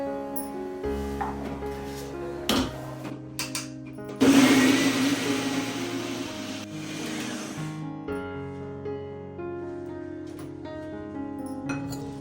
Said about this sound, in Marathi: आपण मिक्सरमधनं बारीक वाटून घेऊया आपण